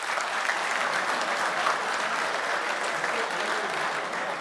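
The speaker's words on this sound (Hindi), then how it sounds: "मैंने सच कहा हो तो एक एक शख्स की तालियां होनी चाहिए" At an Urdu shayari recital, a sizeable crowd breaks into sustained, even applause, a thick wash of clapping that holds steady for several seconds without a break.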